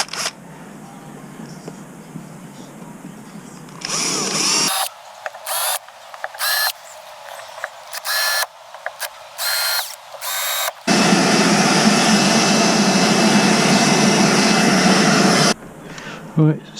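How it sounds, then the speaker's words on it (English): A power drill bores pilot holes for screws to mount deck hardware on a boat. It comes in short whirring bursts, then one long sustained run, and someone speaks between bursts. "Drill my pilot holes for the screws."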